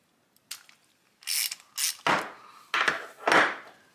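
A ratchet backing out a 10mm screw from the float bowl of a Predator 212 carburetor, several quick bursts of clicking pawl sounds in a row, close and crisp with short pauses between turns.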